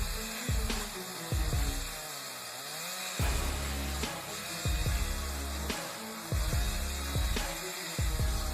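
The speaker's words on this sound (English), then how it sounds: "Chainsaw roars, but the tree holds its ground." A chainsaw cutting into a burnt tree, the engine revving in repeated bursts then dropping to idle between cuts, loud and close with a harsh buzzing whine over a low rumble.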